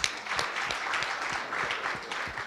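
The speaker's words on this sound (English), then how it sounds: "Give them a round of applause." Audience applause at a scientific conference after a panel, a moderate crowd clapping steadily with individual claps audible, fairly soft and without talk.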